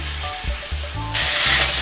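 Potato pieces frying in spiced oil for a chhana dalna curry: a steady, close sizzle that grows louder and hissier about halfway through, with no talking.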